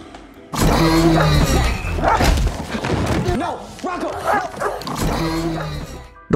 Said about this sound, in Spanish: el perro, empieza a ladrarle